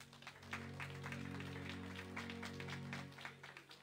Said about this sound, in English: Clap your hands if you love him.